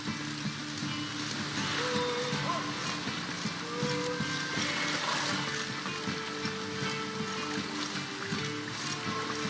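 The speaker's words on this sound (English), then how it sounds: "Must be mad running around in this rain." Steady rain in The Witcher 3: Wild Hunt falls as a continuous hiss over a game scene, with tonal music lines and faint voices woven underneath.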